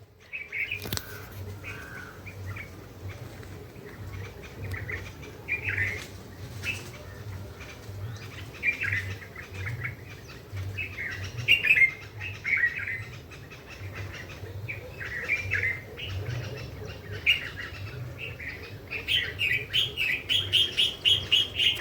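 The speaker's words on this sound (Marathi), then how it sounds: "सगळे पक्षी उडत आहे" A flock of birds takes off from a tree, with repeated chirps and calls over fluttering wingbeats and a low cooing undertone, building to a burst of flapping near the end.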